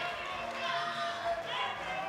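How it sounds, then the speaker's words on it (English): Arena crowd at a European junior equipped powerlifting championship, men's 83 kg, roaring steadily through a heavy deadlift attempt, a dense continuous cheer with brief swells under commentary. "And listen to the crowd."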